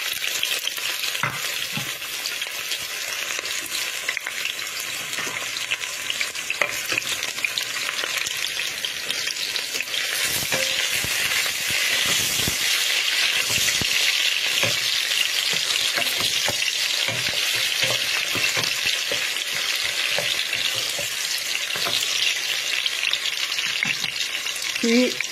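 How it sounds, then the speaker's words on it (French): Onions sizzle and crackle steadily in hot oil in a pan, with occasional stirring scrapes throughout. "Dans la casserole, je fais chauffer de l'huile. Je vais rajouter les oignons."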